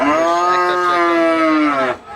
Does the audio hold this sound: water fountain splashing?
no